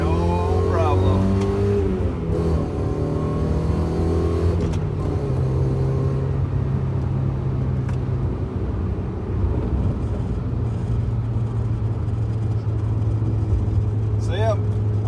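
A car fitted with a new brass shifter bushing drives on with a steady engine drone, its pitch jumping as the engine revs through a couple of downshifts, with some road and wind rumble.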